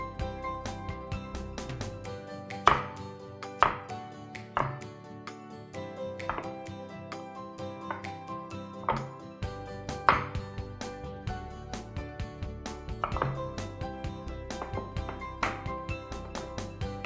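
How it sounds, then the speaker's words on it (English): Knife chopping potatoes into cubes and carrot into slices on a cutting board, a steady series of sharp close taps with no talking. "I'm going to cut the potatoes into cubes and the carrot into slices."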